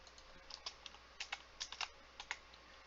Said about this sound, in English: why am I typing on this one?